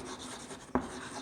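A pen or marker writes briefly on a board during a physics lesson on simple harmonic motion, making one short, faint scratch that stands out against quiet room noise.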